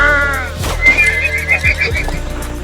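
Horses whinny in a tense wartime scene, a loud, rising, shaky neigh followed by a string of quick quavering whinnies, with faint thuds and hoofbeats underneath.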